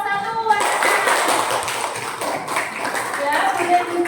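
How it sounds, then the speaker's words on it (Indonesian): Classroom audience clapping for a group after their presentation: a burst of scattered hand claps of moderate loudness lasting a few seconds, following a brief voice at the start. "Beri tepuk tangan untuk kelompok 1."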